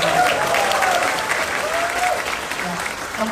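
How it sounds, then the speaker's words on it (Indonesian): An audience at a campaign town-hall event in Pontianak bursts into sustained applause, a loud dense wash of clapping that slowly tapers off. A voice carries faintly over the crowd. "Boleh untuk segmen ini tepuk tangan dulu dong."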